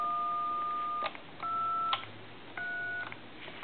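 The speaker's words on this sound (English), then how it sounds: "since we have our tone dialer connected," A telephone tone dialer connected to a PTT telephone sends a quick series of three separate DTMF dual-tone beeps, each lasting about half a second, clean and steady with short gaps between them.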